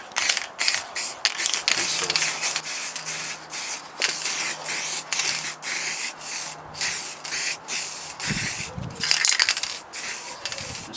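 Aerosol can spraying a thick single coat of paint in a garage, with repeated close hissing bursts separated by brief pauses and a faint rattle of the can.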